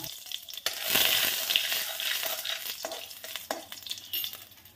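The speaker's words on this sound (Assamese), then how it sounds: "পাঁচফোৰণ দি পেলাই মই তেল মাৰিছোঁ এতিয়া।" Panch phoron spices fry in hot mustard oil with a steady, close crackling sizzle that swells early and carries through to the end, with no voices.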